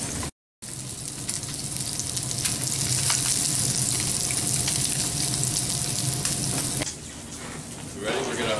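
Salmon fillet fries in a hot pan for teriyaki stir fry, a loud continuous sizzle that eases off near the end while a person talks over it.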